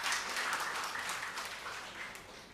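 A church congregation at a Sunday worship service applauds together, a soft, even patter of many hands clapping for a couple of seconds, heard from some distance and fairly faint.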